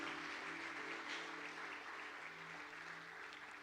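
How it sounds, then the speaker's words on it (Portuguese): A church congregation claps together in a dense, steady wash of applause that carries evenly through the whole stretch at a moderate distance, with no speech over it. "Dá uma salva de palmas para Ele"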